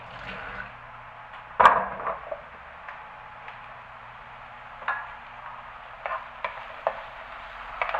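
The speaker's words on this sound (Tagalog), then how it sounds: "ilalagay na natin itong ating patatas at yung ating carrots. Ayan. So, igisa natin yan" Potatoes and carrots sauté in a pan with a soft, constant sizzle, while the spatula stirs them through with occasional sharp scrapes and clacks, close by.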